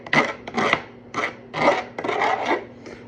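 A blade is scraped repeatedly along the body of a fly-tying build, giving about six rasping strokes in an uneven rhythm, close and clear with no talk.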